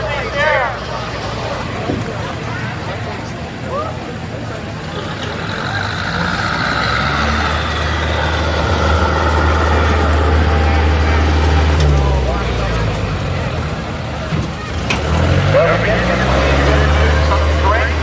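A 2000 GMC Sierra pickup truck pulling at an evening truck and tractor pull, its engine droning and rising loudly over a crowd, with an announcer talking over the roar.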